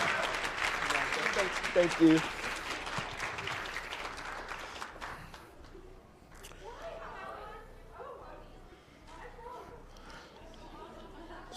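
Audience applause at the Make It Awkward Summit 2018 in Edmonton, Alberta, a dense round of clapping with crowd chatter that fills the first half and then fades, as a voice speaks briefly over the thinning claps.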